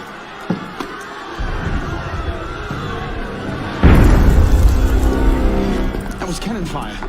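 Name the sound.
cannon fire in Assassin's Creed Unity video game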